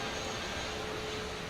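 Airbus A380 jet engines in Microsoft Flight Simulator give a steady, even broadband roar with a faint tonal whine, continuous and unchanging.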